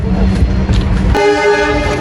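A passing train near Pachuria station on the Faridpur to Pangsha line rumbles loudly, then a long, steady horn blast sounds close by and holds to the end.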